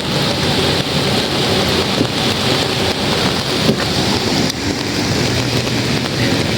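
Steady heavy rain roars without a break beside the M1 motorway in England, a dense wash of noise with occasional louder gusts and drumming.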